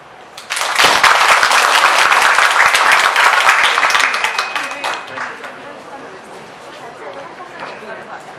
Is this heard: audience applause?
yes